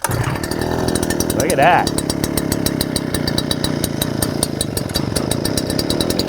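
A GarveeTech 43CC gas backpack leaf blower engine runs with a steady, buzzing two-stroke drone close by, while someone speaks briefly over it.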